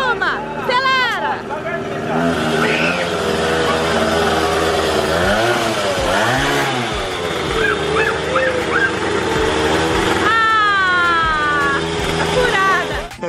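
A new motorcycle's engine revving in rising and falling bursts while a balloon on its exhaust inflates, loud and close, with excited voices shouting and chattering over it.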